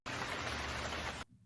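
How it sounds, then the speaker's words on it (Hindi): Heavy rain pours on a village in a steady, dense hiss that stops abruptly after about a second. "एक दिन गांव में बहुत बारिश हो रही थी।"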